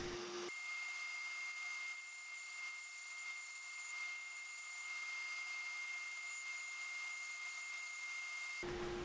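A wood blank spinning on a lathe while the tenon on the bottom of a turned urn finial is cut, a steady continuous whirring scrape that holds evenly for several seconds before cutting off.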